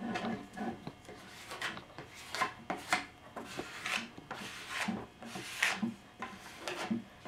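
Paper being rubbed with steady, gentle pressure to strip excess away from an image transfer on a surface, giving repeated soft scraping strokes in an uneven rhythm, close and fairly quiet, with no talking.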